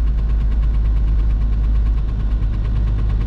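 A VW Golf 3 1.9 TDI 90 HP diesel engine clattering steadily while driving in the rain, a dense rhythmic knock over a low rumble, close and continuous.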